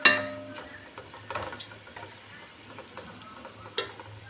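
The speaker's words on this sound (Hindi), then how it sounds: "थोड़ी देर हम प्याज के साथ इसको चंद सेकंड" Whole spices such as cloves, cardamom, cumin, black pepper and bay leaves frying with onion in oil, a soft crackling sizzle with occasional clinks and stirring scrapes, fairly quiet.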